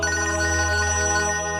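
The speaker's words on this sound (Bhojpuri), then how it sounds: "अरे अंजलि के फोन आवता" A mobile phone ringtone rings, a loud and steady electronic melody with sustained tones playing close by for the whole moment, with no talking.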